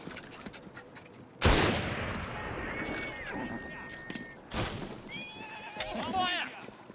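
A salvo of rifle fire in Assassin's Creed Syndicate, with sharp broadband blasts at about 1.5 and 4.5 seconds cutting through horse whinnies and a voice talking throughout.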